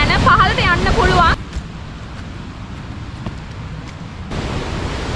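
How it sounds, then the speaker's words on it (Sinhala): Water pouring over the Parawiyan Ella waterfall in Sri Lanka's Uva region, heard from the top as a steady broadband rush, with a voice talking over it for the first second before the roar carries on alone. "මේ මෙතනින් පහළට තමයි වතුර වැටෙන තැන."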